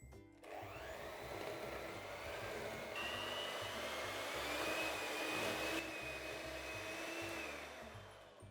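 Electric mixer creaming butter with caster sugar for a raspberry and white chocolate cake, a steady high whirring drone that starts abruptly and runs continuously, moderately loud with no speech.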